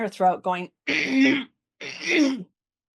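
A voice imitates someone clearing their throat: a few short rasps followed by two longer, harsh guttural clears, close up.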